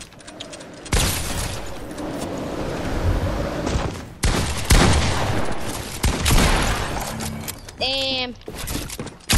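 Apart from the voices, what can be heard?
gunfire spraying at player in Fortnite video game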